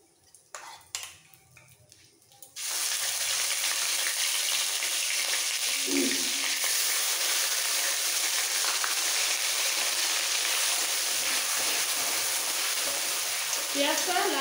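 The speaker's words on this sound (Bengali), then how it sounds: "পেঁয়াজটা লাল হওয়া পর্যন্ত ভেজে নিতে হবে।" Onion paste frying in oil in a pan, a dense, loud, steady sizzle that begins abruptly after a few quiet seconds of faint clinking and handling, then holds with occasional spoon scrapes.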